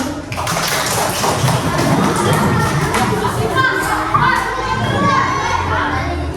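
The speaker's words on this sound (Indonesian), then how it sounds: "Oke, tepuk tangan dulu kita semua silakan." Children in a coding and artificial intelligence class clap together, a busy, loud burst of hand claps and taps mixed with excited kids' voices and shouting.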